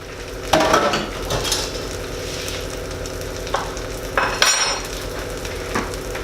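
Full English breakfast ingredients sizzling steadily in a frying pan, with a constant close frying hiss broken by a few clinks and scrapes of a utensil against the pan.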